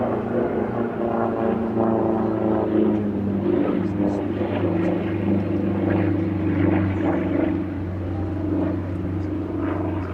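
Aerobatic propeller aircraft with a roughly 420-horsepower engine and a huge 2.7-metre propeller at an air show, a loud sustained droning rumble with shifting tones as it passes, heard under a voice talking.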